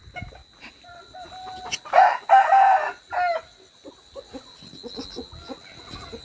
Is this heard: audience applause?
no